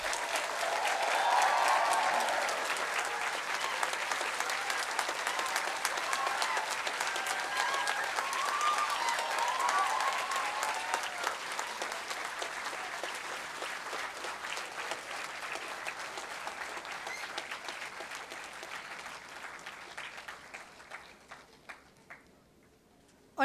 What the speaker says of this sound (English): You all may now give applause and clap for all degree recipients.